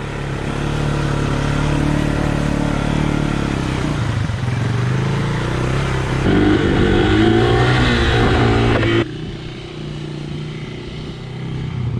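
A 1985 Honda Big Red three-wheeler engine running loud and close, a steady rough drone that shifts pitch and load midway, then drops to a lower, quieter idle near the end.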